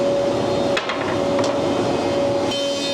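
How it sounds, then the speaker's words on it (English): Planer cutter heads shaving sawmill lumber down to three-quarter-inch boards, a steady mechanical drone with a constant whine and a few sharp knocks as wood feeds through. "So now the bottom cutter head is going to take a 1/16 off, flatten it"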